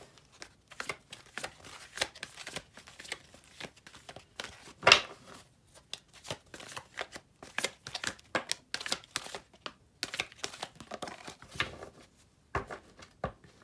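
Tarot cards being shuffled close by, with soft irregular riffling and slapping bursts of card stock broken by brief pauses, fairly quiet throughout.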